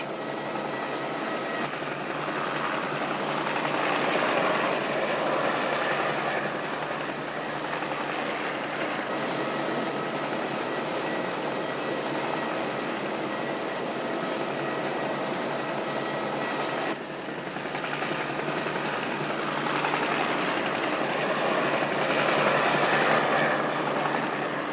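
A light aircraft flying over remote canyon country drones steadily and evenly throughout, a constant close engine roar heard from inside the cabin with no voices.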